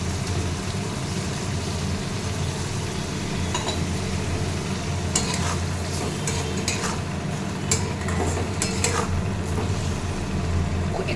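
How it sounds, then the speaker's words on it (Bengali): A spice mixture with tomatoes fries in a pan while being gently stirred, producing a steady sizzle with occasional scraping and clinks from the spoon against the metal. "একটু আস্তে আস্তে নাড়াচাড়া করবো"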